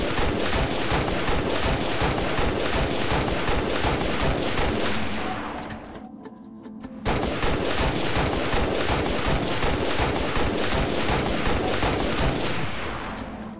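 M392 DMR designated marksman rifle from Halo Reach firing steady, rapid semi-automatic shots, loud and close, with a brief pause near the middle before shooting resumes at the same even rhythm.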